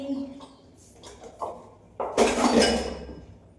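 Metal pots and utensils clink and clatter a few times nearby, then a louder jumble of rattling cookware rings out briefly.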